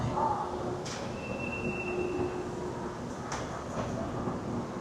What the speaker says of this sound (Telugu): This is the first look of the ETS.